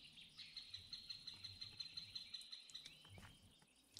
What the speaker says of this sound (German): die Vögel wurden wahrscheinlich einfach so in einem Wald aufgenommen und das irgendwie zu einem anderen Sound gemacht